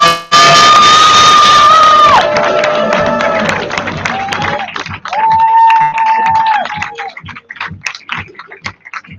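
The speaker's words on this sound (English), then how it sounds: "I want a thundering round of applause for Mr." An audience on its feet gives Jermaine Johnson loud, sustained cheering and applause at a Seacret Midwest Monday Madness event, a crowd roar with whoops and clapping that stays full and close throughout.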